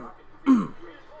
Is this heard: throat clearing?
yes